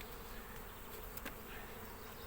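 Honey bees settled in the upper box of a hive buzz in a constant, dense hum, soft and even, with one bee briefly passing closer.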